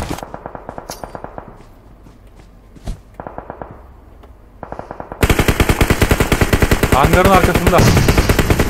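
Gunfire in the video game PUBG Mobile: rapid automatic bursts, quieter and distant at first with a single sharp shot, then a loud, close, sustained rattle of fire while a player speaks over it.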